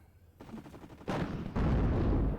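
Machine gun fire from MG teams in the wargame Warno: dense, rapid bursts that build from a lighter rattle into loud, continuous overlapping fire.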